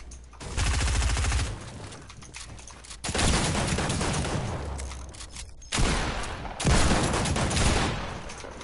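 Submachine gun fire in a first-person shooter video game, several rapid bursts of loud shots separated by short pauses, with no talking.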